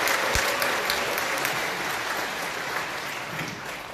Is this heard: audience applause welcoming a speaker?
yes